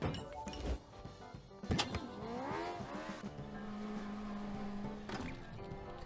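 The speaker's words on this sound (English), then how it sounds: "Wait for a car to come in." A car arriving in the Speed Crew video game on Nintendo Switch, with a revving engine, a swooping pitch rise and fall and a tire squeal, followed by a steady tone under game music, moderately loud.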